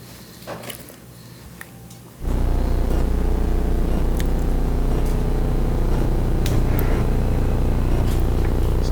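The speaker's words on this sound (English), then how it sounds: "There's the big flame right there." A DCS gas range burner, just cleaned with electrical cleaner, catches and burns with a big flame: quiet at first, then a sudden steady loud roaring rush that holds without a break.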